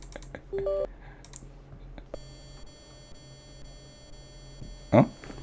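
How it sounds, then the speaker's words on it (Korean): Short, repeated electronic beeps sound near the start over a steady hum, followed by a constant faint high-pitched tone, with no speech. "여러분한테도 혹시 삐삐삐삐 하는 듯한 소리 들렸나요?"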